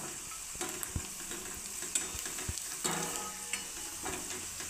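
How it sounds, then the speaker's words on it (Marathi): Sliced onions being stir-fried in a pan for Pandharpuri zunka, with a steady sizzle broken by repeated scraping and clinking strokes of a stirring spoon, close up and without talk. "कांदे हलकेसे गुलाबी रंगावर परतून घ्यायचे"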